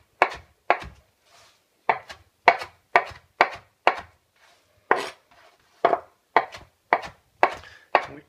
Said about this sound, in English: And now I'm just going to chop them, and this will be the mint flavoring in our mint syrup.